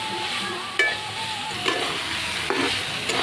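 Brinjal and chilies sauté in oil in a pan, a steady close sizzle broken by three or four sharp spatula scrapes at even intervals, with no voices.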